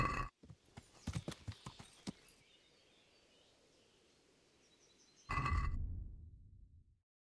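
Hooves clip-clop in quick bursts from a cantering horse in Kingdom Come: Deliverance, close and fairly loud, followed by a quiet stretch and then a louder rumbling burst that fades out.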